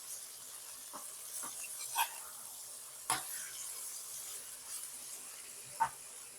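Chopped vegetables, cauliflower and carrots among them, tipped into a pan for a chicken and vegetable pie, giving a low steady sizzle and a few sharp clatters and thumps as pieces drop in. No one speaks.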